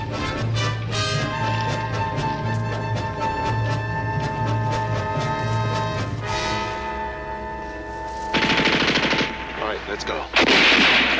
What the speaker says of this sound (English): They got a machine gun.